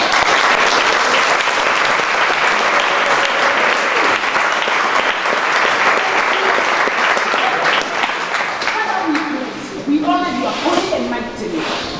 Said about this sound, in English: Give a mighty clap to God.